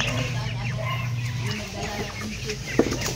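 Chickens cluck and murmur nearby in a steady farmyard chorus, with a low hum underneath and one sharper squawk near the end.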